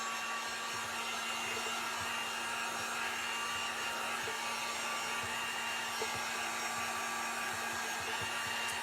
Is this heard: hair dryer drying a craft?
yes